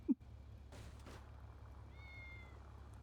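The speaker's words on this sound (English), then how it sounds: "And so many cats." A single cat in a video game gives a short, faint meow near the end, heard against a low, steady background hum.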